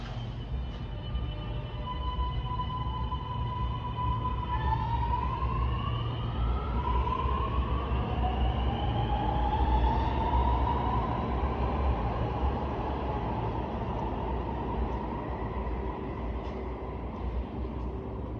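A Sydney Trains train pulls out of Martin Place underground station, its motor whine rising steadily in pitch over a constant loud rumble, close and continuous with no talk.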